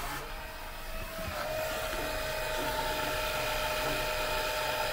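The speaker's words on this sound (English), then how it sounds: "Little 12 volt pump set up to hopefully drain all the diesel out of the tank." A small 12 volt electric pump draining diesel from a 4x4 adventure vehicle's fuel tank gives off a steady, close, whining hum with a faint tonal buzz that holds constant and swells slightly over a few seconds.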